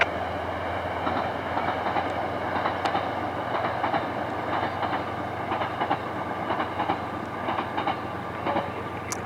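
A CSX freight train rolls past beside the Hudson River on a winter day, its wheels thumping over a rail joint in a steady run of clanks above a continuous low rumble, heard from some distance.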